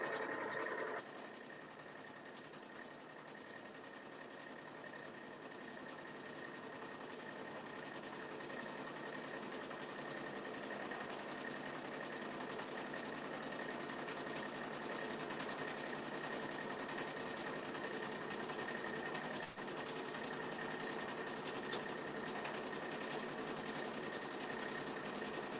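A sewing machine runs steadily for the whole stretch, stitching a full-size top-handle tote bag with the fabric pulled taut, its motor hum and rapid needle chatter close and continuous, with no talk.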